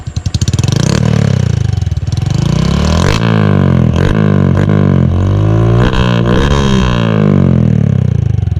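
A Honda Wave 110i motorcycle engine revs hard and loud up close, climbing and falling in pitch through repeated throttle blips with no talk over it.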